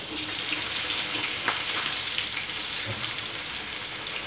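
Potatoes fry in oil in a pan, giving a dense, continuous crackling sizzle with a few louder pops, heard close up with no talking.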